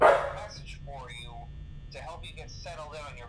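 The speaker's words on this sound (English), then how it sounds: "That was my dog." A pet dog gives a sharp bark right at the start, loud and close, then a voice speaks over a low steady hum for the rest.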